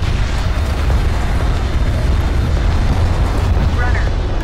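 A massive enemy carrier explodes in the Homeworld: Deserts of Kharak video game, a loud, sustained low rumbling roar that fills the whole moment with deep, continuous blast energy and crackling debris, while speech-like game voices sit underneath.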